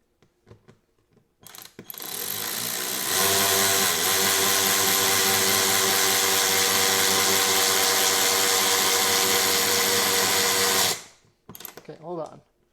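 Ryobi 4V cordless 3/8-inch electric ratchet driving a socket, a loud, steady motor whine with gear grind held for about eight seconds, preceded and followed by brief handling clicks.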